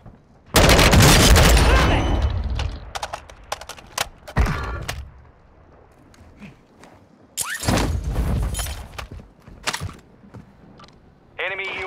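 Frag grenade blast and bursts of gunfire in the video game Warzone 2, a loud explosion followed by scattered shots and a second heavy burst, with quieter game sounds between.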